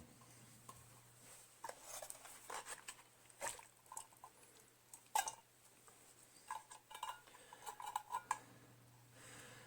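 Mushrooms are stirred into a pan with a utensil: faint, scattered scrapes and soft clinks come in irregular bursts over a quiet background with a low steady hum.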